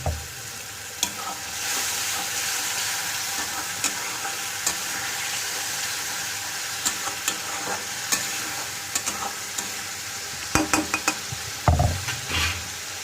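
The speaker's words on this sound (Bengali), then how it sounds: "তো আমি আর একটু জল ঢেলে দেবো যাতে আর একটু কষাতে পারি" A curry braising in a pan with a little added water, a constant close sizzle with intermittent sharp spoon scrapes and clanks against the pot, growing busier toward the end, no voices.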